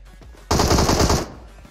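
A loud burst of rapid automatic fire from an M416 rifle in PUBG Mobile, about three quarters of a second of continuous shots, then silence.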